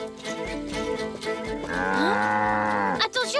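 A cartoon cow moos with a long, loud, drawn-out low call, preceded and followed by other animated sounds and voices.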